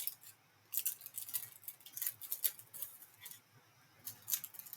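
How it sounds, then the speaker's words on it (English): Pinking shears snip through fabric in a quiet room, a quick run of crisp, close cuts in short bursts with small pauses between them. "I just want to get my pinking shears and I'm just going to cut a little line down there"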